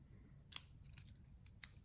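A few quiet, crisp scissor snips, about three separate cuts spaced apart, heard close up in a calm room.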